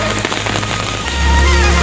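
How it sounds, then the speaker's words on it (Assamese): Heavy rain pours over flooded fields during an Assam flood, a dense steady hiss with a strong low rumble building toward the end, loud and close, with no voices. "তীব্ৰ গতিত বৰষুণ আহি আছে"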